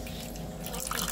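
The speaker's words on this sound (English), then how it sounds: "You want to pour the drink?" Algerian Timimoun tea poured into a glass, a soft continuous liquid splash and trickle close by, with indistinct background murmur.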